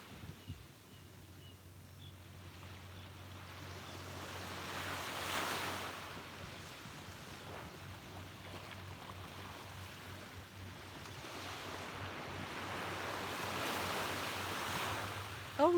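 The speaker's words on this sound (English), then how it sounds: "Yes, Kimberly, the waves are so calming today" Ocean waves wash onto a beach at sunrise, a continuous soft surf roar that swells in broad, rolling surges, with some wind buffeting the microphone.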